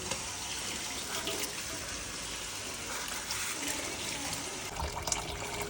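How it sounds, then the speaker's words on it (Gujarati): Running water splashes steadily over homemade butter being washed in a bowl, a continuous hiss of tap flow at close range with no voices. "પછી આ માખણ છે ને એકવાર આમાં લઈ દેવાનું પછી પાણીથી ધોઈ દેવાનું 1-2 વાર"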